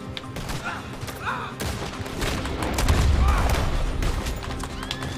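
Gunfire in a Red Dead Redemption 2 shootout, mixed with horse whinnies and hoofbeats; scattered loud shots and bursts ring out over a busy game soundscape, with a low rumble swelling midway.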